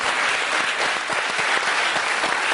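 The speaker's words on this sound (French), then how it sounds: "Il faut les applaudir parce qu'ils sont forts." Audience applause at a stand-up comedy show, a dense, steady clapping that fills the room without letup and with no voices over it.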